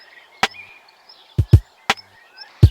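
A sparse lo-fi drum pattern with swing plays from a PO-33 sampler: punchy low kicks and sharp snare-like hits in an uneven, bouncing rhythm over a faint hazy background texture.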